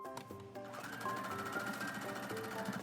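A sewing machine stitching fabric for a bucket bag, a rapid steady mechanical chatter running continuously and fairly quiet, with no talk.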